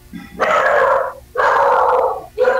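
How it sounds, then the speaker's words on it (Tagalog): Three loud barks from a nearby dog, each drawn out and evenly spaced, with a faint yip just before the first. "May aso ah"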